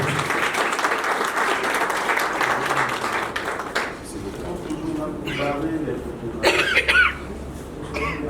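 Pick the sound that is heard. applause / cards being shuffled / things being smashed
applause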